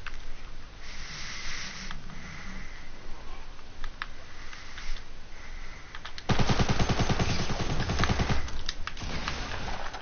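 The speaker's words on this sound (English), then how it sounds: "so I'm going to shotgun" Rapid gunfire from a shotgun battle in Fortnite, quieter shots early on, then a loud, dense burst of blasts packed together for the last few seconds.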